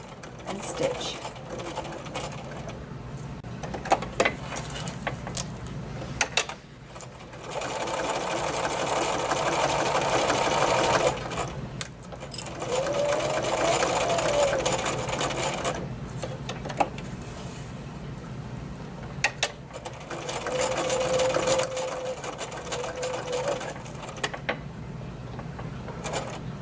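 A sewing machine stitching a towel wrap for an 18-inch doll, running in several steady whirring stretches with pauses for turning the fabric, close up, with someone talking in between.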